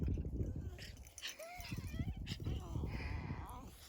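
A dog gives a brief, high whimper amid rustling and background voices, close by and fairly soft.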